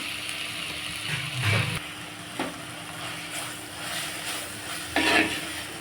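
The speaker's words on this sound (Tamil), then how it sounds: "இப்போ தேங்காய் போட்டு கலந்துக்கலாம்" Grated coconut being stirred into a drumstick leaf stir-fry in a pan over low flame, with a few sparse, quiet spatula scrapes and knocks against the pan and no talking.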